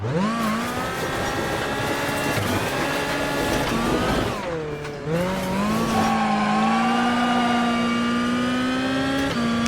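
A rally car engine in the Automobilista racing game, driven smoothly and not fast, hums steadily and loud throughout, pitch rising and falling with gear changes and a brief dip near the middle before climbing again.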